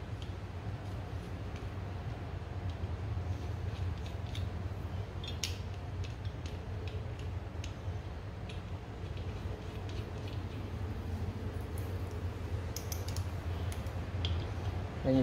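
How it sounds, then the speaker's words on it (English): Bolts being driven down on an Air Lift air bag bracket on a Ram 2500, heard as scattered sharp ratcheting clicks and metallic taps over a steady low hum of shop noise. "So bracket, line up all the holes, and then bolt it down."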